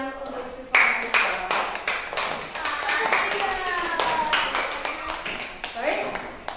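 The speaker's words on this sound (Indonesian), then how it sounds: "tepuk tangan untuk Siva Marisa" Scattered clapping from a small group in an Indonesian classroom for a student, sharp separate claps starting after a moment and continuing unevenly, with some voices faintly underneath.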